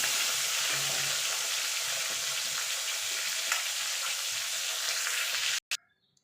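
Koi fish fry in hot oil in a wok, making a loud, continuous crackling sizzle close by that stops abruptly near the end, leaving a brief clatter and then quiet.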